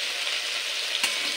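Potatoes and tomato with turmeric frying in a pan give a steady, close sizzle with a brief clack of stirring partway through and no talking.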